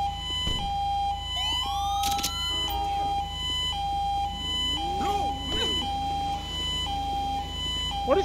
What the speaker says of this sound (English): My siren won't go off.